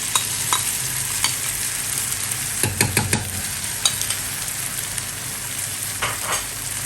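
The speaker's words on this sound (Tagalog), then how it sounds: "pag hinalo natin itong ating sauce, napakabilis na lang" A spoon stirs sauce into sisig tofu in a pan, Max's-style, with steady scraping and light sizzling and a quick cluster of sharp clatters partway through, close and alone.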